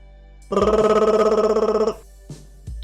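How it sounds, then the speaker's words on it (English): A telephone bell rings in a steady, rapid trill for about one and a half seconds, loud and close, followed by a couple of faint short knocks. "And you hear the sound of the ringing."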